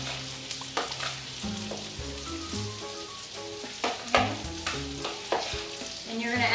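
An avocado mixture is gently mixed in a bowl, with soft wet scrapes and taps in an uneven rhythm, close and moderately loud, with no talk.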